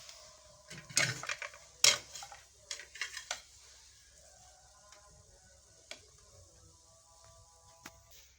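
Vegetable pulao is served from a cooking pot: a few sharp metal clanks of a spoon against the pot, then softer scraping and scattered light taps, close by with no talk.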